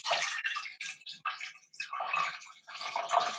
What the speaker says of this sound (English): I'm going to add the acidic water and the cream at the same time.